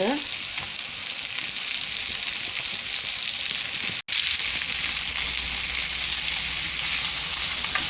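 Vegetable köfte meatballs sizzle steadily in a grill pan, a dense, loud frying hiss that runs almost unbroken, with a single brief dropout midway.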